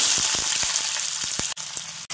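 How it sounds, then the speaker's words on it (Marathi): Finely chopped onion frying in a generous amount of oil in a wok, giving a loud, steady sizzle with a few soft stirring clicks. "आता कढईत तेल टाकून घेऊ। तेल थोडं जास्तच टाकायचं आहे। बारीक कट केलेला कांदा तळून घेऊ।"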